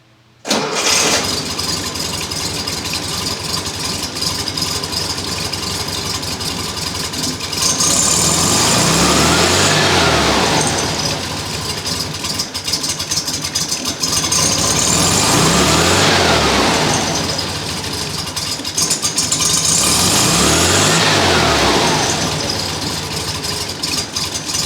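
A 1957 Volkswagen Beetle engine cranks and catches, then settles into a steady idle broken by three rising and falling revs spaced several seconds apart, close and loud.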